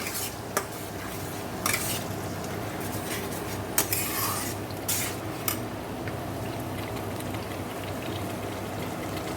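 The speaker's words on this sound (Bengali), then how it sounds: "ভালো করে মশলাটা কষে নেব" A ground paste of onion, ginger, garlic, tomato, chili, cumin and coriander fries in a pan with a steady, even sizzle. Occasional sharp clanks and scrapes break in as it is stirred, with no one talking.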